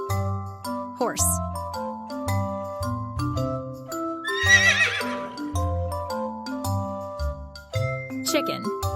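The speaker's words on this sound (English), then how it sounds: "Horse." A horse gives one loud shrill whinny mid-clip, with brief hoof clip-clops and squeaky accents over a bouncy plinking tune.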